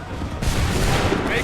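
A massed musket volley in Assassin's Creed III erupts after a brief quiet moment into a loud, dense roar of many guns firing together, crackling on as the sound rolls out.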